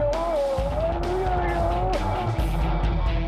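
A car in a police chase skids off the road into a ditch, tyres squealing and engine whining loudly up close, with talk running over the commotion.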